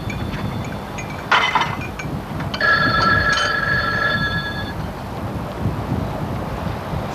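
A telephone rings with a bright electronic trill for a couple of seconds, mid-distance, over a steady background hiss.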